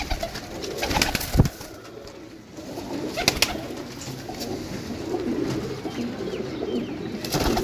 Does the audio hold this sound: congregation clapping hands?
no